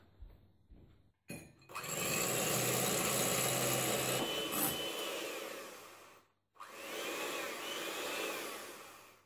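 An electric mixer whips egg whites into stiff peaks in a home kitchen, its whirring motor starting up loud and steady, cutting out briefly, then running again.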